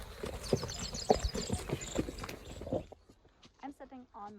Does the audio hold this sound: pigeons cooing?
no